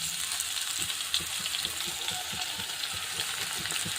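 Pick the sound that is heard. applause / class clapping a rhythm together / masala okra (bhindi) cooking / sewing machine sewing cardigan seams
masala okra (bhindi) cooking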